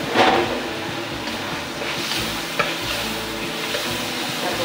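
Sautéed bottle gourd with tomato sizzles in a pan while a utensil stirs and scrapes through it, a close, continuous frying hiss with occasional clinks.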